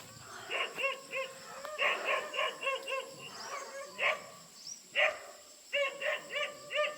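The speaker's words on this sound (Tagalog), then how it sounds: "Oh, may aso." A dog at a small Filipino farm plot barks repeatedly in uneven bursts of sharp yips and woofs, moderately close and with short pauses between volleys, with no talk.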